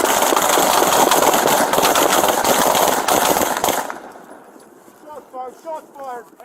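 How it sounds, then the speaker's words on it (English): Gunfire during a police confrontation with an armed suspect: a rapid dense burst of loud, close shots lasting several seconds, then fading into quieter scuffling and distant shouting voices. "Shots fired."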